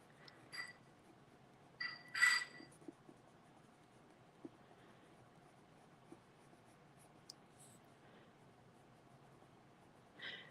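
A watercolor pencil traces lines on paper in a soft, steady scratching, very quiet and close, broken by a few brief louder scrapes and taps.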